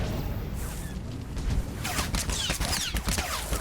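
Blaster fire rattles through a Star Wars: The Old Republic battle. It opens with a hiss, then rapid bursts of overlapping shots and whooshes crowd the second half, close and loud.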